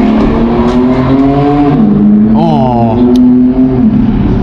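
A Mercedes car engine revs loudly nearby at an abandoned factory, its pitch climbing and falling in sustained sweeps, with a brief exclamation from a voice.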